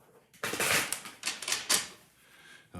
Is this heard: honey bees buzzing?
no